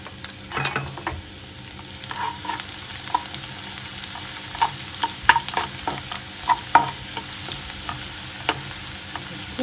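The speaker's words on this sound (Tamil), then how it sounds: "அடுத்தது பூண்டையும் அதே மாதிரியே நம்ம நல்லா ப்ரௌனிஸாக ஃப்ரை பண்ணிக்கலாம்." Garlic frying in a pan for Burmese-style egg bhejo, stirred steadily until brown: a continuous soft sizzle runs under repeated scraping and clinking stirs, close and moderately loud, with no talking.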